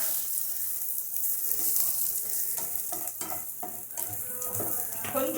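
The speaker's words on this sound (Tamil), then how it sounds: "இப்போது இந்த தேங்காயை வறுத்துக்கலாங்க." Grated coconut roasts in a pan for a white salmon fish curry, a steady dry sizzle with repeated scraping stirs of a spatula, close and continuous without speech.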